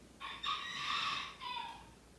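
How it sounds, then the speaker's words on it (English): A rooster crows once in a drawn-out, strained call, heard at a moderate distance with quiet surroundings. "my rooster's outside crowing like crazy"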